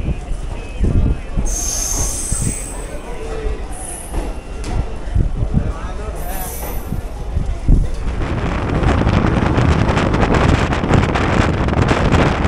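The 13187 Maa Tara Express pulls out of Bolpur station on the Kolkata to Tarapith route. A steady, loud rumble of the wheels builds as the train picks up speed, with bright squeals of the wheels and gusts of wind noise.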